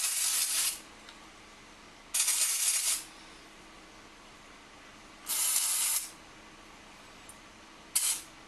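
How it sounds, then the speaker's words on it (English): Non-flammable electrical contact cleaner is sprayed onto a 12-volt push-button switch in four sharp, close hissing bursts, each lasting under a second, separated by quiet pauses. "Take a little bit of contact cleaner, non-flammable electric"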